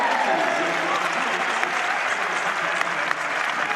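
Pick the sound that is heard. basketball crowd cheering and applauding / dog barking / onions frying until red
basketball crowd cheering and applauding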